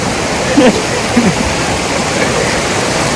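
Steady broadband rush of water flowing continuously from a dam toward a village river, with a couple of faint brief voice-like sounds near the start.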